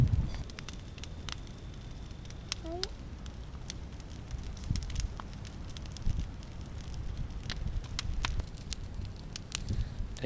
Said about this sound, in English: Don't you love the crackle of a fire?